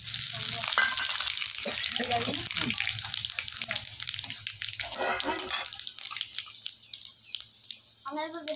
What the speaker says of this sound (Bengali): এবার আমি তেলে ফোড়ন দিয়ে দেবো।